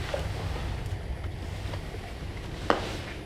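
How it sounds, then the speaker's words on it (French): Wind blowing steadily around an abandoned monastery in open countryside, a continuous low rushing roar with slight gusts and a faint knock near the end. "Il y a du vent, il y a des bruits"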